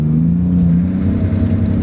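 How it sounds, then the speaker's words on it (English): A twin-turbo Nissan 300ZX engine revs while its turbos whine, a thin high whistle sliding slowly over a loud, steady engine drone for a couple of seconds. "You can hear those turbos whining down"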